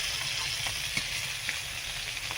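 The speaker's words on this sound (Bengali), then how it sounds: "এবার মাছগুলো এপিট ওপিট করে ভেজে নিয়েছি লাল করে" Hilsa fish pieces fry in hot oil after browning on both sides, giving a continuous close sizzle scattered with small crackles and pops.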